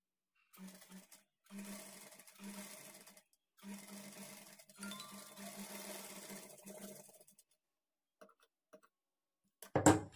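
A sewing machine stitches a small frill onto a high neck blouse in several whirring runs separated by short pauses, ending with a brief louder clack.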